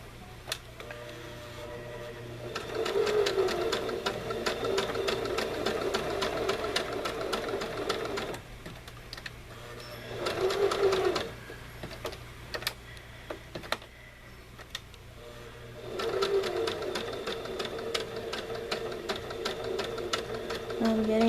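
A sewing machine stitches a cat and pumpkin pillow in three long bursts of rapid mechanical chatter, separated by pauses where the fabric is repositioned. A voice speaks now and then in the background.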